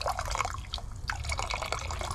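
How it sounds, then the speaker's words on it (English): Cold water is poured gently around the top of a pot of campfire coffee in a backyard camp, a soft close trickling and dripping that runs steadily without talk. "We're gonna take cold water, and we're just gonna very gingerly go all the way around it."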